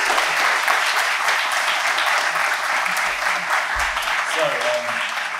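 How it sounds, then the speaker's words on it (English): Steady audience applause at a debate fills the whole stretch, dense and even, with a few faint voices murmuring underneath. "Let's give them a round of applause, why not?"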